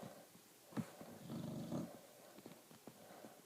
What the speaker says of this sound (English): I don't know if you could just hear my dog snore.